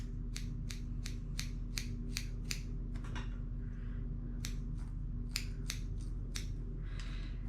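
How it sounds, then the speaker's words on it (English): Scissors point cutting hair during a clipper fade haircut, a close, quiet series of crisp snips in quick runs with brief pauses between them and a faint steady hum underneath. "and I like to point cut"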